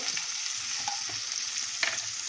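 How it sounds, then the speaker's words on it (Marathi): Cabbage, carrot, beans and cashews stir-fried in oil over a low gas flame, a steady close sizzle with a few scraping stirs and one sharper clatter near the end, no talk. "आणि आपण आता हे गॅस फ्लेम स्लो ठेवून भाज्या परतूया"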